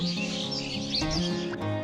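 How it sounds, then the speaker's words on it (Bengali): Birds chirp and tweet from a nearby tree at a nature campground field in Gazipur, a bright, busy cluster of overlapping calls heard close and continuous over a faint outdoor background. "পাশের গাছ থেকে পাখির কিচিরমিচির শব্দ আসছে"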